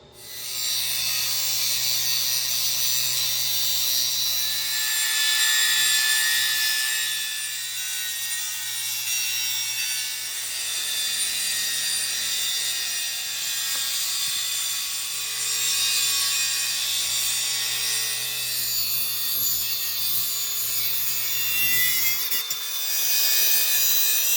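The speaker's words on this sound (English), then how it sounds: "So basically, Molly took a couple little slices out of there just to knock this over to get a better angle on it." A car exhaust pipe on a turbo Miata being cut, heard as a loud, continuous rasping saw sound that grinds on without a break for about twenty seconds, then stops with a few clunks.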